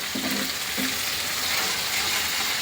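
A khichdi tempering of crushed garlic, chopped garlic, onion and dried chili fries in hot oil, giving a dense, even crackling hiss throughout with a faint low thump or two early on, close and unbroken by speech.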